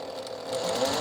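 A sewing machine runs steadily, stitching fabric for a zippered pillow cover, a continuous close whir that grows slightly louder in the second half with no talk over it.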